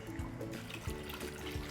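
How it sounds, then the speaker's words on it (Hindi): Water pours into a masala paneer curry simmering in a pan, a no-onion, no-garlic, no-tomato gravy, giving a soft, faint trickle and splash that runs steadily for under two seconds with no talk over it. "अब इस स्टेज पे जी जाएगा पानी।"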